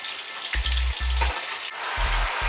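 Gafftopsail catfish fries in a hot pan with a steady, close hiss of sizzling oil, broken by a few low thumps and scrapes as the pieces are moved, with no talking.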